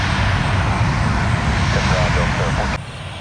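A United airliner taking off from a Tampa runway, a loud, steady close engine roar that holds level and then drops suddenly near the end, with a voice talking over it.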